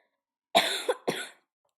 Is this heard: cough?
yes